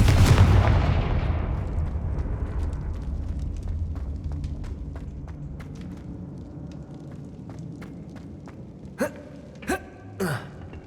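Confringo fire blast spell explosion in the video game Hogwarts Legacy, a loud booming blast that decays over several seconds, followed by a few sharp cracks near the end.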